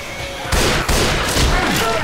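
Gunfire in the co-op zombie shooter Left 4 Dead 2: loud, dense bursts of automatic shots filling the clip, with heavier onsets near the start and middle, and voices faintly under the shooting.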